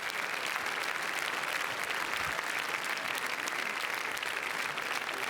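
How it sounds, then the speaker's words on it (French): Dense, steady applause from the audience greeting Elle Fanning on the Cannes 2016 red carpet steps at The Neon Demon premiere, sustained and somewhat distant throughout with no let-up. "il demande au public d'applaudir Elle Fanning"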